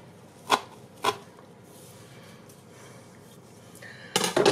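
A knife chopping sweet potatoes and herbs coarsely on a board gives two sharp isolated knocks near the start, a quiet stretch, then a quick burst of rapid chops at the end, close and fairly faint.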